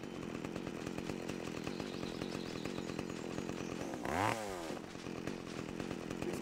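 In the Open Season video game, a chainsaw drones steadily and loudly with a rough buzzing rhythm, revving up in a sharp rising whine midway before settling back, with no talking.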